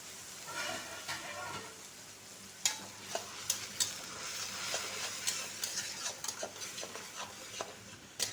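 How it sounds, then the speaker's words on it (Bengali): Onion paste fries in a kadai with cumin, a soft steady sizzle beneath sharp, irregular clicks and scrapes of a spatula against the pan, close and moderately quiet. "পেঁয়াজটাকে একটু হতে দেবো।"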